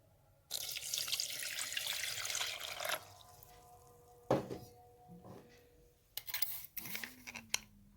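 Warm water runs from a kitchen tap for homemade flatbread dough, a strong rushing stream for a few seconds that stops abruptly, followed by faint clinks, a brief tap burst and soft handling noises.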